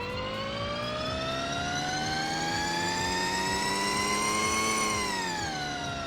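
Volkswagen car engine in the Roblox game Vehicle Legends roaring like a fighter jet, a loud sustained whine that climbs steadily in pitch for several seconds and then dips slightly, heard alone without talk.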